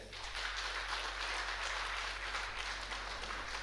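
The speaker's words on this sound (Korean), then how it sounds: "인사를 하실 때 큰 박수로 격려해 주시기 바랍니다" Audience applause at a church lay-training opening service, a steady dense wash of clapping from a congregation, moderately distant and even throughout.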